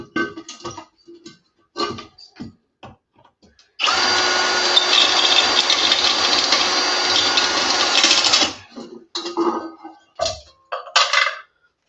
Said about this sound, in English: You gotta drill out the centers of them, and they always get stuck on your drill bit.